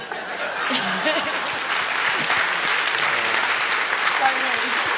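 A crowd at a real estate conference claps enthusiastically in sustained applause, with scattered chuckles and voices mixed in.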